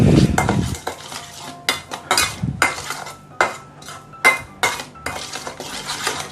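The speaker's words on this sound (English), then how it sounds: "Mix them all up nicely." Utensils clink and scrape around a bowl in quick irregular strokes while a pork chop marinade with sesame oil and coconut sugar is stirred together, close and fairly loud.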